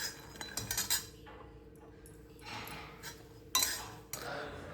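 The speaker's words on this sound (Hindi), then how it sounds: "जब तक दूध उबलेगा तब तक बर्तन लगा देते हैं।" Kitchen utensils and steel dishes being put away in a home kitchen, with repeated close clinks and clatters of cutlery and pots in uneven bursts, and no talking.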